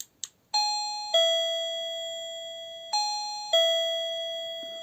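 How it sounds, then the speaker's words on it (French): A Silvercrest wireless battery doorbell rings out with two clear ding-dong chimes, each bright ding followed by a lower sustained dong that decays slowly, close and alone after a couple of faint clicks. "Une petite sonnette sans fil, à pile."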